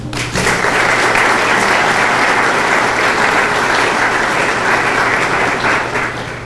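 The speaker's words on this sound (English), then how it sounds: "So please give everybody a round of applause." Sustained audience applause at a mayor's State of the City address, honoring city employees; dense, steady clapping that holds at full strength for several seconds before tapering slightly at the end.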